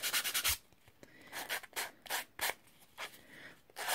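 Light sanding with a dust sanding block over an artist trading card, short rhythmic scratchy strokes in bursts of varying length, close and clear with quiet gaps between passes.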